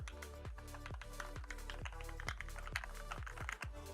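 Keys on a Cougar Puri Mini RGB mechanical keyboard with pre-lubricated switches and a flat deck bottom out one after another in a quick, even typing rhythm of about eight or nine distinct, close clacks.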